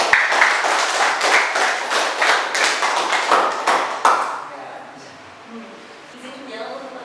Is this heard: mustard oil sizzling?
no